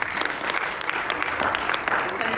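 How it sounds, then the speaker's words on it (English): Conference panelists receive a short round of applause from the audience, dense steady clapping filling the moment. "let's give our panelists a big hand clap"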